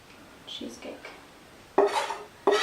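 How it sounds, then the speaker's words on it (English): Utensil scraping and clinking against a bowl as melted chocolate is mixed into cheesecake batter, two louder bursts of stirring after softer scrapes, close and brief. "And mix that in as well."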